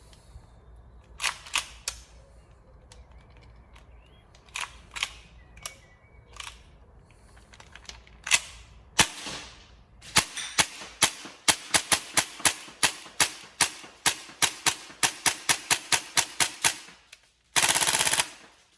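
An upgraded Tokyo Marui MP7A1 gas blowback airsoft gun fires close by. It starts with scattered single shots and then settles into a fast, regular run of sharp cracks with loud bolt snaps, followed by a brief burst of gas hiss.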